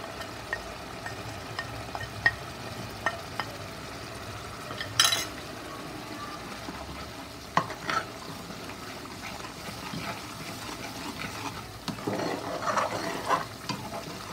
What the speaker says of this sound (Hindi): बहुत ही अच्छी तरह से मीडियम फ्लेम पर हम भूनेंगे, जब तक कि ये खूब अच्छे से तेल ना छोड़ दे